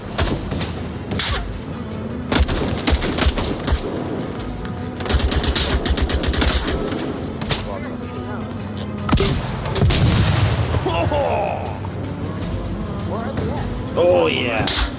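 An MK18 grenade launcher in Onward VR fires in sharp, loud reports with heavy booming impacts, amid other gunfire and frequent talking over the action.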